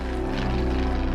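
A propeller plane passes close overhead, a loud steady engine drone with a throbbing harmonic hum filling the whole moment, no voices over it.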